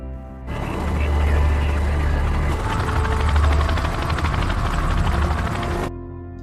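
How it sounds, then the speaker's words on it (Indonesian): Helicopter dispatched from a base to pick up Turkish troops, its rotor chopping loud and close in a dense steady drone that starts abruptly and cuts off after several seconds, with no talk. "sebuah helikopter dari markas diberangkatkan untuk menjemput pasukan Turki"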